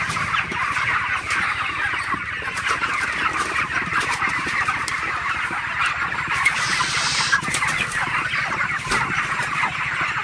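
Broiler chickens packed in a poultry farm shed during hot weather, a dense continuous chorus of clucking and chirping from many birds, steady and close with no talk.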